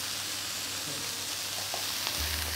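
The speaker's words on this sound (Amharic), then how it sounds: "ለአንድ ደቂቃ ለሁለት ደቂቃ የምንጠብሰው" Vegetables fry in a pan with a steady close sizzle, with faint stirring clinks and a low rumble near the end.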